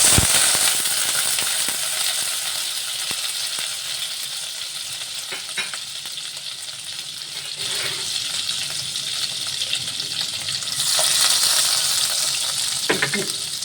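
Two tablespoons of butter go into hot oil in a pan for shahi paneer, giving a continuous bright sizzle and frying hiss with occasional stirring clinks and scrapes, close and steady throughout.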